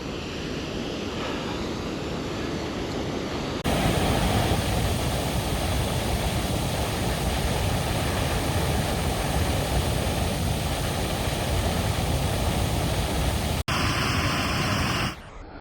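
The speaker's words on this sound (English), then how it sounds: "Oxarafoss, first Icelandic waterfall of this trip." Öxarárfoss waterfall in Iceland roars as a steady, powerful rush of falling water, loud and close, with wind buffeting the microphone throughout and a brief break near the end.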